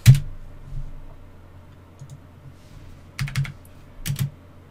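Sparse clicks of keys on a computer keyboard, a few isolated taps and short bursts of typing, close and fairly quiet.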